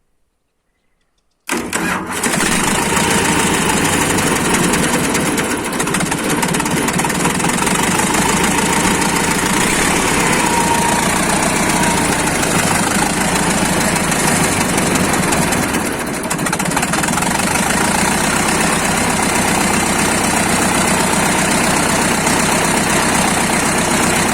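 A tractor diesel engine with a freshly repaired injection pump cranks and catches after a brief silence, then settles into a loud, steady, rough idle that carries on for over twenty seconds.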